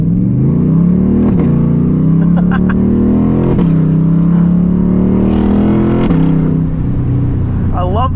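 A Chevrolet C8 Corvette engine idles with a deep, loud, raw rumble close by, broken by three quick blips of revving that rise and settle back to idle.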